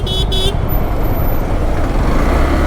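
Dense, loud road traffic in Mumbai with a continuous engine roar, opening with two short car horn toots that give way to steady rumbling.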